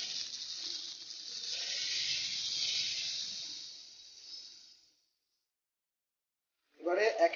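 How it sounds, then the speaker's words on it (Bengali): Water poured into a pan of oil and fried spice paste for a Bengali fish curry sets off a strong, hissing sizzle that slowly fades away, followed by a short burst of talk. "এবারে আমরা জল ঢেলে দেবো।"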